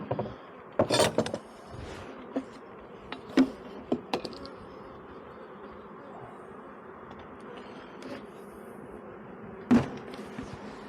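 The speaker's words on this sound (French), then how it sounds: "Et on va faire tomber les abeilles du nourrisseur." Honeybees buzz around a hive feeder as they are knocked off during a spring hive inspection, a soft steady hum broken by sharp knocks and brief louder buzzing bursts.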